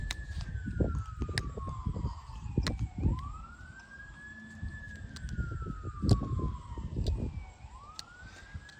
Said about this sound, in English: Courtesy of the sirens in the back.